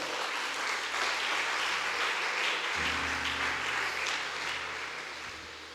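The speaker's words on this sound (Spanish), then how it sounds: "Dale fuerte aplauso al Señor" Church congregation applauding the Lord during a Spanish-language sermon, a steady, full wash of many hands clapping together, sustained and moderately loud with a low hum beneath.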